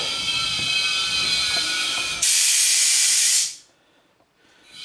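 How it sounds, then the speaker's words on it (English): A pneumatic motorcycle lift, used for a 1983 Honda CBX550F, is raised with air: a loud, steady hissing rush that surges, holds for about a second, then cuts off abruptly, leaving near silence. "First things first, raise up the old lift."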